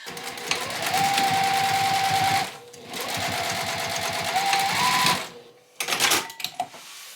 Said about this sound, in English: I'm going to sew this short side once again, just like I did the other one